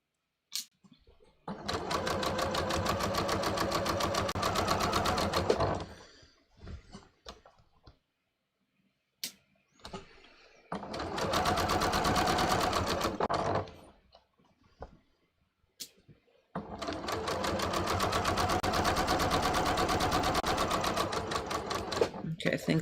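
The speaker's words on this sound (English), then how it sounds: "I'm just stitching underneath to catch the silk from the other side." A sewing machine stitches underneath a waistband to catch silk from the other side, running in three sustained bursts of fast mechanical ticking with brief silent gaps between them.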